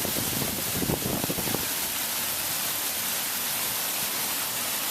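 Penny-sized hail pours down in a severe Chicago thunderstorm, a continuous broad hiss of pelting stones that stays steady, with a few low rumbling gusts or thumps in the first second and a half and no talk.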